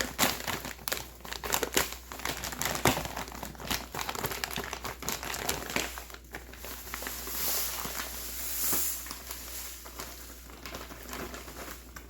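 A 10-pound bag of organic cane sugar being emptied into a pantry container, with close, loud crinkling of the bag and a soft granular pour that grows into a hissing rush midway.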